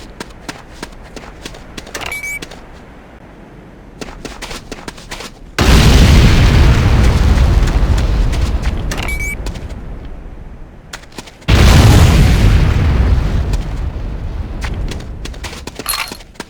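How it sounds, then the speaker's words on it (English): Two loud C4 charge explosions go off in Command & Conquer Renegade, each a sudden roaring boom that slowly fades, with quieter clicks and beeps between them. "place the C4 charge on a target. Then, move to a safe distance before detonating with your secondary fire."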